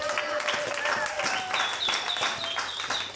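A church congregation claps for the Lord during a sermon, a dense, continuous patter of many hands lasting a few seconds, with voices mixed in.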